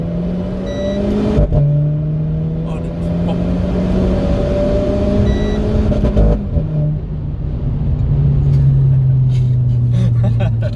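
A Renault Clio 4 RS engine drones and revs steadily from inside the cabin, pitch rising and falling with gear changes, with a brief spoken word.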